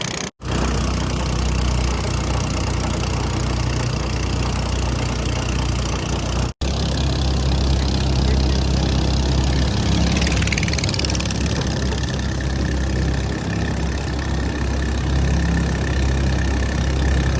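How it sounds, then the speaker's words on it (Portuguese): An aluminium boat driven by a long-tail rabeta outboard motor runs on the Rio Negro in the Amazon during a severe drought. The engine drones steadily and loudly throughout, with a continuous low hum, and no voices are heard. "o único meio de transporte são os botes de alumínio com motor rabeta"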